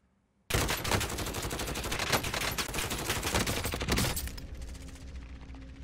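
Assault rifle gunfire in Call of Duty Warzone opens suddenly as a long, rapid automatic burst, close and loud, then cuts off and leaves a fading echo.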